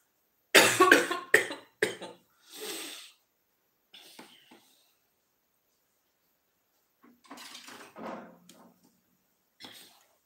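A person coughs hard and close in a rapid cluster of harsh bursts, goes quiet for a few seconds, then breaks into another round of coughing with a final single cough.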